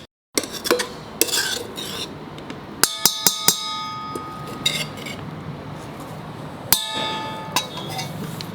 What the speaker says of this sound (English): I'm mixing the seasoning in this, in the fish that is boiled and deboned